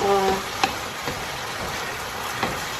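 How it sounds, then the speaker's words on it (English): Spices and powdered ingredients being stirred into a homemade tomato sauce of overripe tomatoes, a steady close sizzle with occasional sharp spoon knocks against the pan, alone without talk. "stirring so that we will all combine all the spices, powder ingredients"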